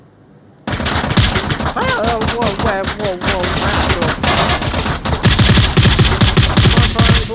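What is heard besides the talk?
gunfire from blind firing in the VR game Onward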